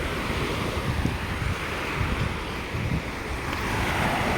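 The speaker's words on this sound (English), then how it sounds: "I just kind of love the sound of the waves." Ocean waves washing onto a sandy beach, a loud continuous roar of surf mixed with heavy wind buffeting the microphone, steady throughout with no talking.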